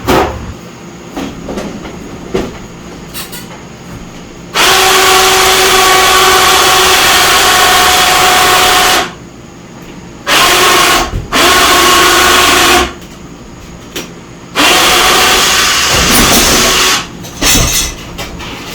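A hive lifter moving stacks of beehive honey supers, giving loud sustained mechanical motor runs of several seconds with rattling and clanking between them, close and dominant.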